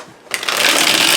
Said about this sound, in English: really like the way this deck shuffles.